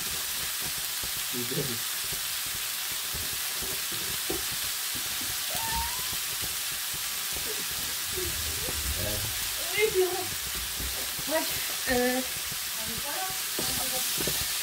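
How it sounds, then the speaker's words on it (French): Capsicum peppers frying in a pan with a steady, loud sizzle throughout and occasional stirring clatter, while someone talks briefly over it. "vous laissez cuire les poivrons"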